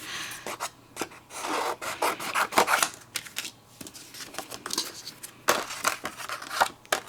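Scissors trim a sheet of pink paper for a gift bag, producing close, quiet snipping and rustling cuts in irregular bursts with brief pauses between strokes.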